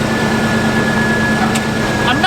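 Air-cooled VW engine idling slightly rich, a steady droning hum with a constant tone, close and continuous throughout, with a brief faint tick near the end.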